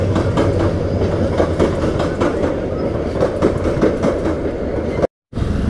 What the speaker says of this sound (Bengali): সো দেখতেছেন ট্রেন যাচ্ছে